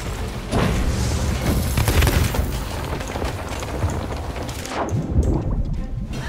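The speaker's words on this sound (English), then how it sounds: "I heard the explosion. Probably a cannonball." A sustained, heavy rumbling cannonball explosion boom in Sea of Thieves fills the clip, with a couple of deeper thuds near the end, loud and close.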